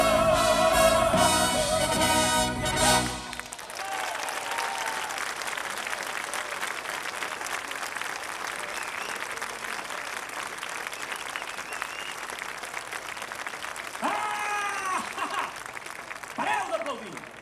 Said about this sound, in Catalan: Pareu d'aplaudir!